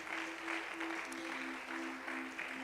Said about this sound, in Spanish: ¿por qué no le das un fuerte aplauso a Dios?